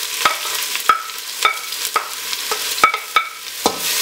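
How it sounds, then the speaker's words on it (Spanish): Chopped green pepper and onion with salt are stirred in a pan. About eight sharp, close utensil scrapes and knocks come at an uneven rhythm over a soft sizzle, with no talk. "Lo mezclamos todo bien"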